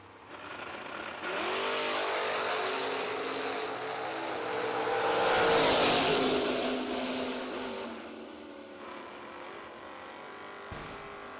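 Classic Chevrolet drag race cars launch side by side at a summer drag racing event, engines roaring loud and close, swelling to a peak mid-run before easing off.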